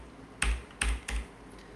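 Three separate keystrokes on a computer keyboard while editing text in the vi editor, close and crisp, evenly spaced with short quiet gaps between them and no voices.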